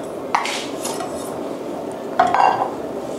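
Palm sugar dropped into a pot over a flame for sweet fish sauce, giving two clear clattering knocks of sugar and utensil against the pot over a steady low background hiss.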